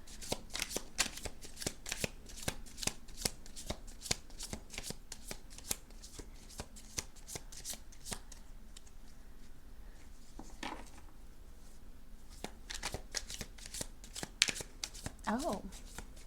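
A deck of cards is shuffled over and over close by, giving quick riffling flutters and soft taps that carry on for the whole stretch.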